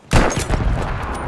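Gunfire in Battlefield V, a loud, close burst of several quick shots that starts abruptly and then echoes out over a second or so.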